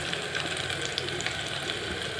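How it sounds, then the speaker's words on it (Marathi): Maggi noodles roast in a pan with their masala, giving a steady, close sizzle with faint scraping of stirring throughout. "सर्व एकत्र करून छान भाजून घ्यायचं।"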